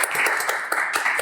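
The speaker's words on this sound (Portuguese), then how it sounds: "Uma salva de palmas para ele." Brief burst of audience clapping at a live talk show taping, dense and close, lasting only about a second.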